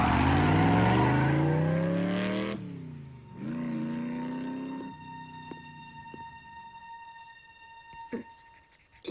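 A loud motorcycle engine in the Transformers Prime cartoon revs hard with a rising whine, then drops away and idles down, ending with a few sharp clanks.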